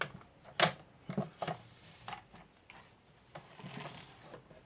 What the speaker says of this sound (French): Et on va sortir le massicot.